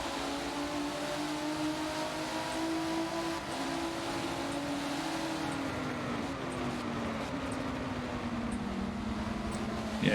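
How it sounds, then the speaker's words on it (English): A race car engine in a racing video game at Brands Hatch, a steady droning whine whose pitch slowly shifts and dips as the car rounds a turn, continuous and moderately loud throughout. "Here we can see the transformer car coming around the turn."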